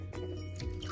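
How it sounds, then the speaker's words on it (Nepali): Water is added to a selroti batter mixture, giving a brief, close wet dripping and squishing sound with no talking. "अनि यसलाई चाहिँ म खासै यहाँ अब पानी लाउँछु"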